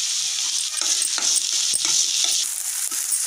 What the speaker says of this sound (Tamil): முதல் ஆயில் சூடானதும் வெங்காயத்தை போட்டுக்கிறோம். இதில் கொஞ்சமாக உப்பு சேர்த்து வதக்குறோம்.